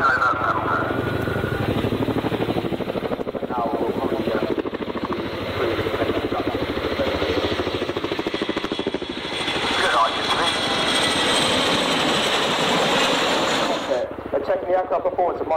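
Boeing Chinook HC6 twin-rotor helicopter in a flying display at RIAT, a steady loud rotor thrum and engine whine continuing throughout with commentary over it.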